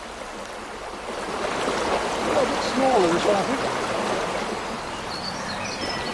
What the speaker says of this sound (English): Very fast water we're in here